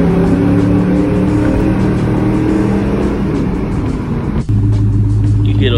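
A 2004 Mustang GT V8 rumbles loudly and close inside a tunnel, its exhaust burbling with a deep, steady low drone that echoes off the walls, then drops abruptly near the end before settling back into a heavy idle.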